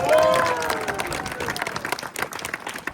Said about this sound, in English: Applause for number 5 in the first floor.